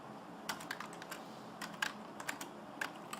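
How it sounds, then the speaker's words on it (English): Code is typed on a computer keyboard in a quick, irregular burst of crisp close keystrokes, with no one speaking. "if we go down to our function main and type in a little bit of code"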